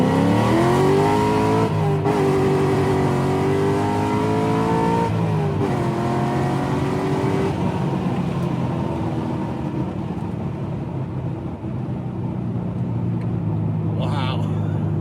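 A Corvette pulls hard through first gear on the side of a highway, its engine climbing loud and close in rising sweeps with a brief shift break, then settling into steady road and wind roar.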